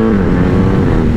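BMW 1250GS or 1300GS motorcycle engine, heard close and loud as a continuous throaty drone with slight rises in pitch, with no voices over it.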